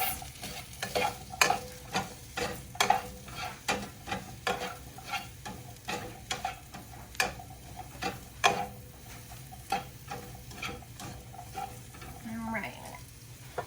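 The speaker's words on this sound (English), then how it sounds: "I just want to give these a little stir to kind of coat the mushrooms" Mushrooms tossed with tongs in an oiled pan, a soft steady sizzle punctuated by regular sharp tong clicks and scrapes roughly every half second, close up and without talking.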